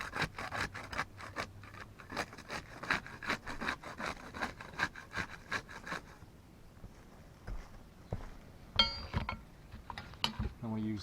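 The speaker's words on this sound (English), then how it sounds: "We'll use the putty knife to unseal the top shingle." A putty knife works loose sealed roof shingles with a quick run of rhythmic scraping strokes, roughly two per second, for about six seconds, followed by a few sharper scrapes and knocks close by.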